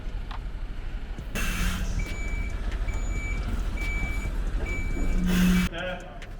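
A truck backs up about 20 meters, its reversing alarm beeping steadily and evenly over a loud engine drone, with a hiss of air near the end and voices nearby.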